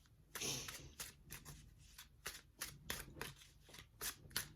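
A deck of tarot and oracle cards is shuffled by hand close up, with a quick run of crisp riffling flicks repeating at a steady pace and no voices.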